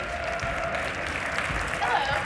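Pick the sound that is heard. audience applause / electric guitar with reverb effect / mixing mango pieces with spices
audience applause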